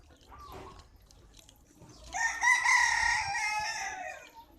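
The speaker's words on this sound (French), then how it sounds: "c'est les poulets. Il y en a encore partout." A rooster crows loudly and at length, following some soft clucking and quiet chicken sounds nearby, at a Thai Buddhist temple.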